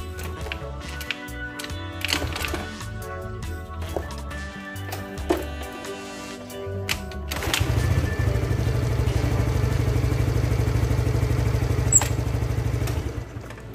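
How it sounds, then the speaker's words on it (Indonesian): A Suzuki Nex scooter is kick-started with a few clattering kicks, then its small engine catches and settles into a steady, fairly loud idle close by. "kita coba selah dulu teman-teman"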